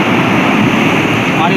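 Sea waves on the Dwarka coast, a broad roaring wash of surf, close and loud, steady for the short stretch and mixed with wind.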